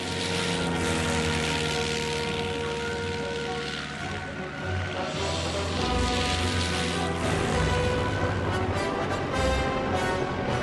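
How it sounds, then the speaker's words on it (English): A 1960s Piper Cub propeller plane drones steadily and fairly loud throughout as it comes in to land, its engine hum rising slightly near the end, over a hiss like rain or wind. "First in is a spectacular 1960s Piper Cub."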